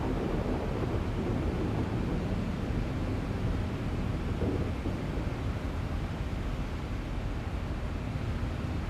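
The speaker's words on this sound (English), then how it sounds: "Oh yeah, there's some thunder and lightning below us here." Thunder from the X-Plane 11 flight simulator rumbles as a steady, dense low roar for about nine seconds, with no distinct claps and no voices.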